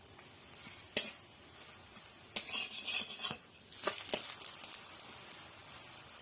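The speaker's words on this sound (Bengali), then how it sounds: "তেল দিয়ে খুব সুন্দরভাবে উল্টে পাল্টে আমি ভেজে তুলে নেব" Paratha made with lentils and flour fries in oil in a pan, with a soft sizzle broken by sharp clinks and scrapes of a utensil turning it, close and fairly quiet.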